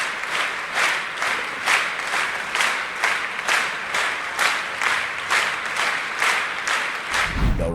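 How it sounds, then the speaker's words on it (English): A team continuously clapping in rhythm during a world-record attempt, steady evenly spaced bursts of many hands clapping together, loud and close throughout, with a low rumble at the very end. "the Clap for Jesus team from Uganda set a groundbreaking record by continuously clapping for 3"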